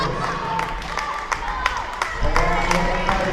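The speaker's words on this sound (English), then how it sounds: "the Blue Jay crowd on its feet." A home volleyball crowd on its feet at match point in a college gym, with sustained cheering, clapping and shouts filling the hall under steady noise, swelling louder near the end.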